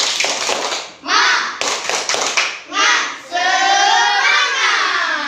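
Group of children clapping a rhythmic classroom cheer routine, bursts of hand claps alternating with a teacher's and pupils' voices, loud and close.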